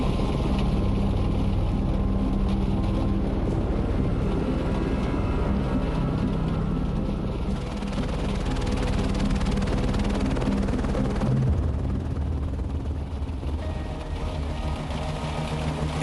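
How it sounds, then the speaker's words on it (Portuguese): A helicopter landing in stormy weather during a rescue on Everest: a loud, continuous roar of engine and rotor mixed with wind noise, heavy and steady throughout, with a slight shift in tone partway through, no voices. "Eles ficaram surpresos ao ver o helicóptero aterrissando"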